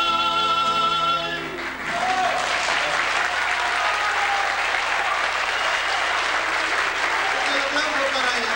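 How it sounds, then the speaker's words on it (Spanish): An audience applauds after a live performance by a Mexican trio. The last sung or played notes fade out, then dense, sustained clapping from a crowd rises and holds steady at close range. "El aplauso para ella, querido amigo."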